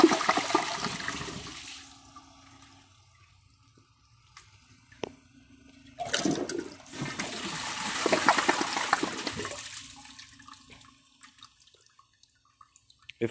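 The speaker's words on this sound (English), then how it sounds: "Now I will give them both a flush and you can decide which one you like better." Two toilets, a Kohler Class 5 and a Toto Drake, flushed one after the other: each gives a loud rushing gurgle of draining water with a refill hiss, separated by a short quieter gap, close by with no talking.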